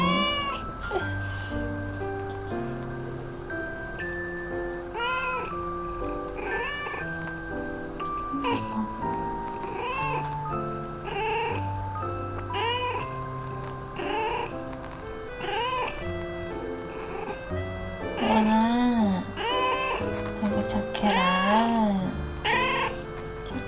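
A cat meows repeatedly, with rising and falling cries coming close together over a steady bed of background music.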